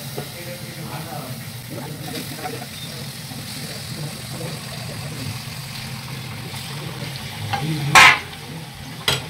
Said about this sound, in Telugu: ఇలా వేయించిన తర్వాత మనము లివర్ని ఇందులో వేసుకోవాలి.